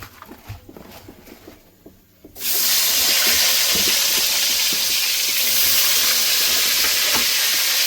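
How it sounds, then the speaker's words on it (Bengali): Salted slices of young, seedless eggplant hit hot oil in a village kitchen. After a few quiet seconds of light handling, a loud, steady sizzling hiss erupts and holds without a break. "লবণ লাগিয়ে নিচ্ছি, বেগুনগুলো ভেজে নেব।"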